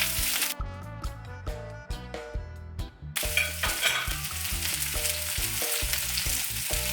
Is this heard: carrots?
yes